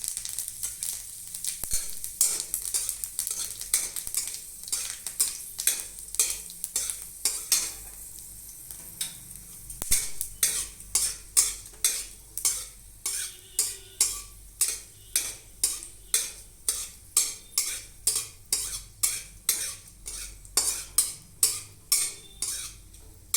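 Dried red chilli halves and panch phoron sizzle in hot oil while a spoon stirs the pan in a steady, quickening rhythm of scraping strokes, close and clear over a constant frying hiss.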